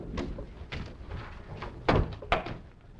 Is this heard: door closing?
yes